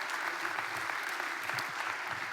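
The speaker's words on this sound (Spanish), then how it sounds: "Dele un aplauso" A church congregation claps steadily during a service, the applause dense and even throughout, heard from a slight distance.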